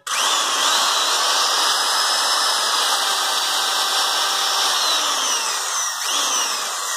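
A Japanese 100V low-speed handheld electric drill runs continuously with a steady high motor whine and hum, close and loud, with no talking.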